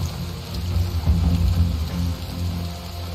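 Rain in Shadow Tactics: Blades of the Shogun, Suganuma Village mission, falls as a soft continuous patter with a low, even rumble beneath.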